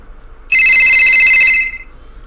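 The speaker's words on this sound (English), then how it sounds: "pretty soon I'm going to receive a phone call" A phone rings in an Unreal Engine 5 Spider-Man video game, one loud, bright electronic ring lasting about a second before fading, with nobody speaking.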